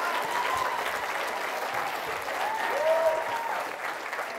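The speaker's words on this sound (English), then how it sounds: "All right, round of applause for" Audience at a school follies show claps in a steady, moderately quiet round of applause, with a brief whistle or cheer rising midway through.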